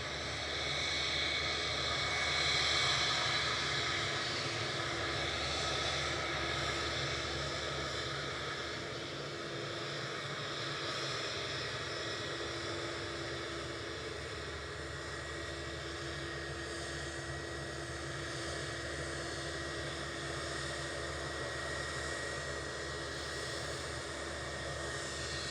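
An Airbus A321 jet at Manchester Airport produces a faint, steady distant engine drone with a slightly louder swell early on.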